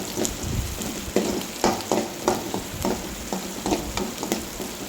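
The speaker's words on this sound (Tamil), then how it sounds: "வெங்காயம் வதங்கட்டும், நல்லா வதக்கி விடுங்க" Onions sauté in a pan for a bean and egg stir-fry, sizzling steadily up close while a spatula scrapes and stirs in a quick, uneven rhythm, with no voices.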